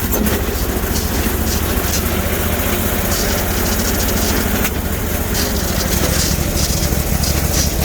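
A Bolens Hydro lawn tractor with a 20HP Briggs V-twin engine runs loud and close with a rough, steady drone and a scratchy, uneven texture.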